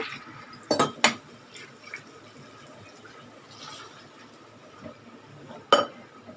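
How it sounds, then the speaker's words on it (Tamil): Water is poured into a cooking pot for cabbage sambar, giving a faint liquid trickle and fill sound with a few sharp clinks and splashes. "தேவையான அளவு தண்ணி விட்டுக்கலாங்க"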